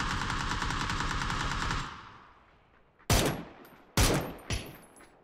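Video game gunfire in PUBG: a rapid automatic burst rattles for about two seconds and tails off, followed by several loud single shots with ringing echoes.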